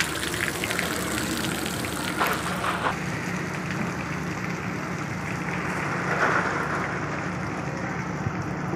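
Water gushing out rapidly from a broken pipe joint in snowy Himachal, a loud steady rushing roar that continues unbroken throughout, close by and with no talk over it.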